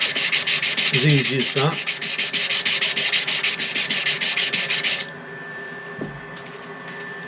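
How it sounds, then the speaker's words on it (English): Power sanding works the pommel of a bushcraft knife handle made with Coke bottle material, a loud, steady abrasive whir that stops abruptly near the end, with someone speaking briefly over it. "I can sand the pommel"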